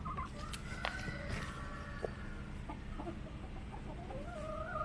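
Chickens, including silkie hens, cluck and call softly in a backyard chicken tractor, with scattered short clucks over steady outdoor background noise and no talking.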